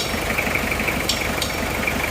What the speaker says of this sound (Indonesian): Di sebelahnya ini Kijang juga sama Kijang diesel, tapi ini mesinnya tidak suara bek bek bek, suara mesinnya normal